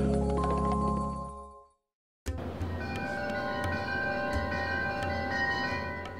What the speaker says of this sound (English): Stacy, ring the chimes